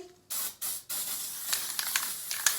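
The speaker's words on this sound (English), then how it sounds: "Last thing I do is I hit it with the Design Master glitter spray." Three short bursts of Design Master glitter spray hiss from an aerosol can close by onto a fresh floral bouquet, then a few lighter clicks and brief spritzes follow.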